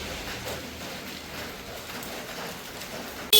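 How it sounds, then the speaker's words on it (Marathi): Light rain drizzles softly outdoors after a heavier shower, a faint, even patter with scattered tiny drops and no voices. "आता नुसतं थोडं बिरबिर चालू आहे"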